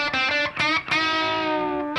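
An electric guitar with the pickup selector in the middle position so both pickups are engaged, lightly overdriven notes and a chord ringing out with long sustain, close and clear with no talking.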